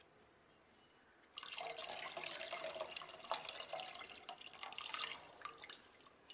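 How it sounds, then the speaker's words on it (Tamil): Tamarind water is poured into a pot of boiling water in a home kitchen, a steady splashing stream starting abruptly and running for several seconds, fairly quiet and alone without talk. "இதை வந்து இப்போ வந்து நம்ம புளி தண்ணி ஊற்ற போகிறோம்."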